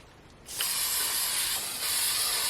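A steady, close aerosol spray hiss onto a pastel painting starts suddenly and continues without a break, with a brief surge partway through.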